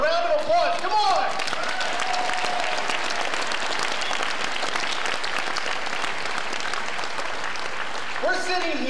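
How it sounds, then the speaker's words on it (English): Loud, sustained applause from a large crowd at a Libertarian Party convention, dense clapping rolling for several seconds, with a speaker's voice heard briefly at the start and again at the end. "Give yourselves a round of applause"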